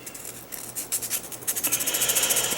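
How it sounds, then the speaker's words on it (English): A cut piece of material is sanded smooth by hand with sandpaper, making close, rapid rhythmic rubbing strokes that grow faster and louder toward the end, with no talking. "You'll need sandpaper. You might want to just smooth it out a little bit."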